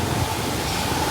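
A mountain stream on the road to Pangong Tso in Ladakh rushes with great force, giving a steady, dense roar of water close by with no break and no talking.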